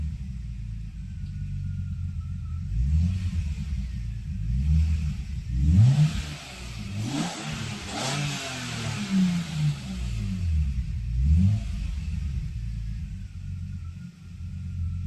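BMW engine fitted with a Schrick intake manifold revving up repeatedly inside a car, several rising and falling throttle blips over a steady idle rumble, fairly close and loud with no talking.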